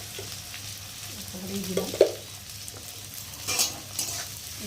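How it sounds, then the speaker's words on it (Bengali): Onions frying in a pan with salt, a soft steady sizzle broken by a few scraping stirs, while someone speaks briefly. "ভেজে নেবো হালকা করে। একটু নুন দিয়ে দেবো যাতে পেঁয়াজটা একটু নরম হয়"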